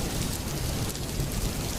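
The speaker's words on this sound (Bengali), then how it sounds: "বাইরে তো ঝড় বৃষ্টি কমলো না" Steady, heavy rain pours in a cartoon storm, a dense, loud hiss with a low thunder rumble underneath that runs unbroken throughout, with no voices.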